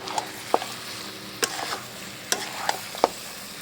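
Meat frying in a pan at a rooftop picnic, stirred continuously with a spatula: a steady sizzle broken by several sharp scraping clacks against the pan, close by, with no one talking.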